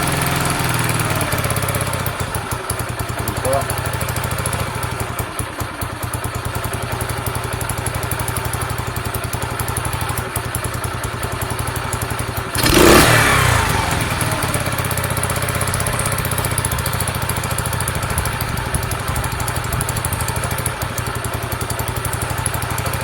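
A Sinnis SC125 motorcycle engine idles steadily with the air fuel screw about 1.5 turns out, a continuous mid-pitched running note that stays even throughout, with one brief louder clatter near the middle.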